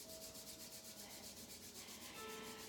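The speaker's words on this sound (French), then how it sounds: "on prend les mains et on les frotte pour se réveiller" Two hands rubbed briskly together, a continuous dry swishing friction that pulses in a quick even rhythm, close by and soft, with no talking.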